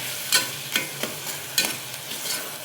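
Steady oil sizzling as tomatoes fry, with a few soft scrapes of stirring, close and fairly quiet, with no voices.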